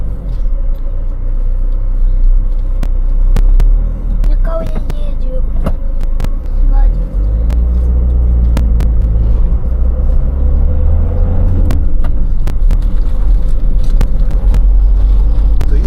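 Truck cab interior while driving along the autobahn, a steady loud low engine and road rumble with scattered clicks and knocks throughout, and a deeper surge in the middle.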